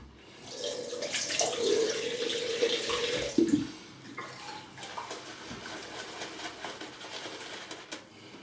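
Water runs steadily from a tap with a splashing hiss, briefly louder and clattering around the middle before settling into a softer flow.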